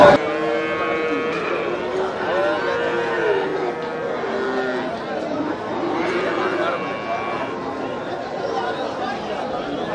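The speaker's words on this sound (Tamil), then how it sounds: "மாடு கண்ணுக்குட்டி" Cattle mooing repeatedly at a busy cow market in Melapalayam, with long, drawn-out calls from several animals over steady crowd chatter and people talking nearby.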